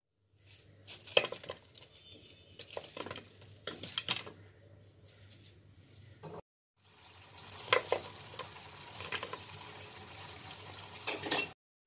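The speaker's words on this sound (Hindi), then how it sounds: "तो बस वापस से मैं इसमें एक बैच और तल लेती हूँ" Moong dal and spinach mangode fritters deep-frying in hot oil, a steady crackling sizzle with intermittent bursts and a clink of utensils, heard alone without talk.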